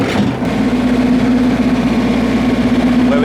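Compact tractor engine running with the PTO engaged and a slasher hitched, a loud steady low drone with a constant mechanical hum throughout, near and alone.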